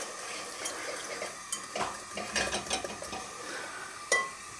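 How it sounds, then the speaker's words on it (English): Melting sugar for cinder toffee is whisked in a pan, with soft scraping strokes and light metallic clinks over a quiet bubbling hiss. "I'm just going to whisk that around a bit."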